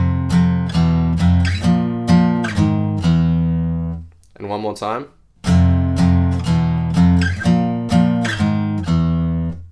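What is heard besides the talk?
guitar playing a riff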